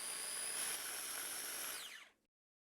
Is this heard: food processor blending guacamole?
yes